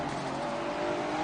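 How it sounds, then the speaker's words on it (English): A race car engine drones steadily and loudly through a Hockenheim round, driven in manual with a clutch. The high, continuous engine tone holds without a break or a shift. "it sounds like Make My Day is driving on manual with clutch"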